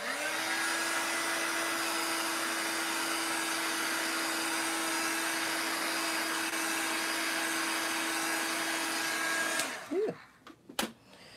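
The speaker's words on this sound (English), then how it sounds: "Maybe I will actually just dry it a little bit with my heat gun." A heat gun blows steadily over freshly stenciled paper, a loud continuous whooshing whine with a constant tone that runs without a break, then cuts off and leaves a few clattering handling knocks. No one speaks.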